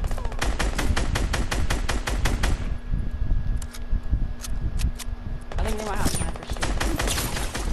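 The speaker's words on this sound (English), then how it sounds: "he's finally shooting me down" Rapid automatic gunfire from the video game Fortnite during a duos battle royale match, dense bursts of shots up front then sparser fire, with players talking over it.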